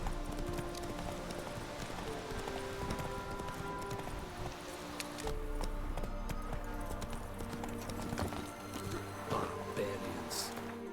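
Roach the horse gallops in The Witcher 3, with a steady rhythmic drumming of hoofbeats throughout, layered over game music and ambience, and a voice speaking briefly.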